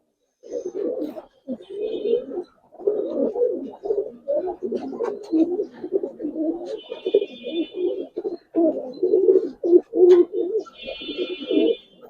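Giribaz coloring pigeons, including a female, coo close by in a steady run of repeated throaty phrases with brief pauses, and faint higher chirps break in now and then.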